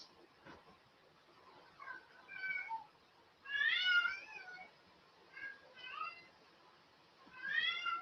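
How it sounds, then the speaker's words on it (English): A cat meows repeatedly, several separate plaintive calls spaced a second or two apart, fairly close and clear against a quiet room. "Who's meowing?"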